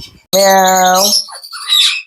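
A baby parakeet gives one loud, close, harsh squawk lasting almost a second, followed by softer scratchy chattering calls.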